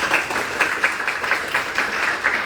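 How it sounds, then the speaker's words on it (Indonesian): Steady applause from a crowd at a beauty pageant gala dinner, many hands clapping together in a dense, continuous wash with no talking over it. "tepuk tangan dulu dong"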